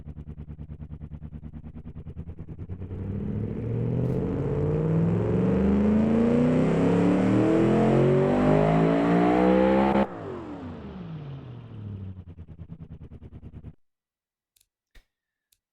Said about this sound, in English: and so this is the sound of our brand new engine